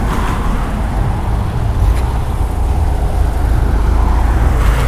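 Cars roll steadily past at a JDM and supercar meet, producing a continuous loud rumble of engines and tyres that builds slightly as vehicles draw near, with no speech.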